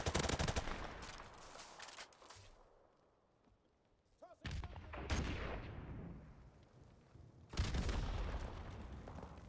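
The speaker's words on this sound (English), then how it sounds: "Where's all that gunfire coming from?" Video game gunfire: bursts of rapid automatic fire and booming shots, loud in the first few seconds, a quieter stretch with scattered shots, then heavy firing returning near the end.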